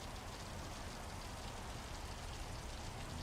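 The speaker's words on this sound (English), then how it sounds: "Oh, look, it's raining." Rain in the American Truck Simulator video game, a steady, even hiss of falling rain and drops striking surfaces, constant and moderately faint, with no voices.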